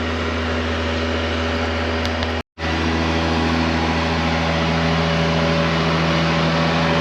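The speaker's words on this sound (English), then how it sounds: "Wondering what the noise is. It's this lorry here. Very noisy, isn't it?" A very noisy lorry parked by the water at Camp de Mar, Mallorca, runs its engine with a loud, constant droning hum and steady mechanical whine, briefly cutting out for an instant before resuming.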